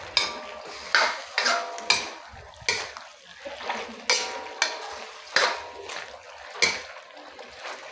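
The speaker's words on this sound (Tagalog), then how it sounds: "At haluin natin ito." Chicken adobo with oyster sauce being stirred in a pan, a spoon scraping and clinking against the metal in repeated strokes over a soft sizzle, close and clear with no talking.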